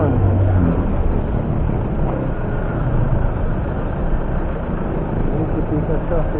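Dense street traffic in Kingston, Jamaica, a steady roar of car and bus engines close by with constant low rumble, filling the whole stretch without a break; a voice may be mixed faintly underneath.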